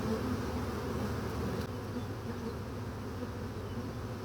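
A large spring honey bee swarm being gathered into a box hums with a dense, steady buzz of many wings, close and loud, holding without a break from start to finish.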